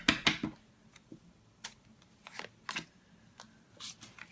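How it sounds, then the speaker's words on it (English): Tarot deck being shuffled in a quiet room, a series of short papery riffles and taps, a quick cluster at the start and then scattered bursts with pauses between them. "One last shuffle for Libra, August 2017 general read."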